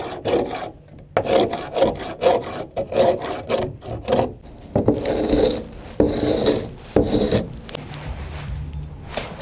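A hook scraper pulls exterior paint off wood in loud, close, rasping strokes. The strokes repeat steadily in a rough rhythm, with brief pauses between passes and no talking.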